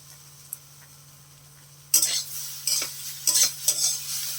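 After a quiet start, okra sizzles and crackles in a hot pan as it fries, with bursts of stirring and utensil scrapes coming in uneven waves.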